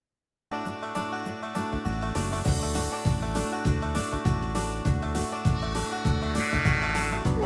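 A lamb bleats over and over at close range on Millertown Sheep Farm in Auburn, California, its loud, wavering cries coming in a steady, repeating rhythm with no talk.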